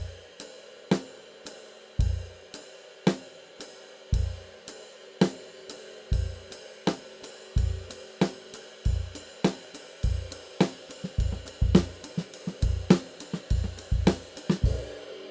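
Offbeat eighth-note hi-hat chicks from a left-foot pedal, crisp and close, evenly spaced between low kick-like thumps, played steadily alone with no talking.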